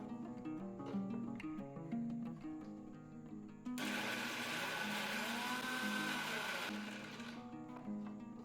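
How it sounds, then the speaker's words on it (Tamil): A kitchen mixer grinder whirs loudly for a few seconds as it crushes black pepper, cumin and garlic for rasam, the motor pitch rising into a harsh grinding roar before dropping back to a softer hum. "இப்போ இந்த ரசம் ரைஸ் பண்ணுறதுக்கு தேவையான மிளகு, சீரகம், பூண்டு இது எல்லாத்தையுமே அரைச்சி எடுத்துக்கலாம்"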